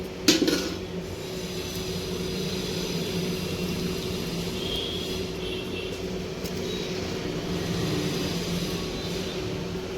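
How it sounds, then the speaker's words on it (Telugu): A kitchen mixer grinder blends tamarind into a roti pachadi chutney, giving a steady, continuous whirring drone throughout, with a brief clatter at the start and no talking. "చింతపండు వేసి గ్రైండ్ చేసుకోవాలి."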